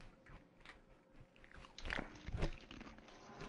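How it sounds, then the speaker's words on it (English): Close, crunchy chewing of food picked up by a gaming headset microphone, with repeated bites and munches that grow louder toward the middle and no talking. "I heard you munching"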